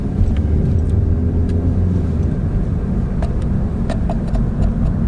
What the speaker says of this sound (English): This car is pretty smooth.